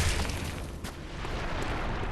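A boss's attack in the Bloodborne Amygdala fight sets off a lingering after-explosion, a loud sustained roaring blast with rumbling bursts that fill the scene.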